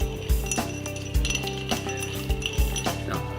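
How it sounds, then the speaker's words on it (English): Ice cubes clink and rattle against a glass as a whisky cocktail is stirred, a steady run of close, bright chinks repeating every half second or so, with no talking. "A little bit more ice, a couple more cubes of ice. There we go. Keep stirring."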